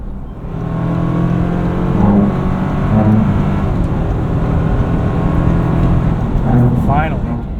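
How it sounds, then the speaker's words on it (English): A 2025 Toyota 4Runner TRD Sport engine pulling hard at full throttle for a few seconds while passing a slower car, a steady loud drone with rising tones, heard from inside the cabin. "Made one pass on that slow Camry, so went full throttle for a few seconds."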